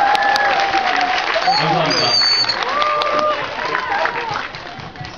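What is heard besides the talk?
audience applause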